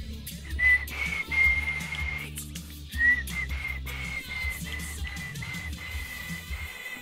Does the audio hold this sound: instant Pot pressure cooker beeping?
no